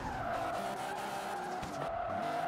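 In the racing game Game of Drift, a car spinning out while drifting gives a loud, continuous tire squeal over a whining engine, with the squeal wavering in pitch as the car rotates.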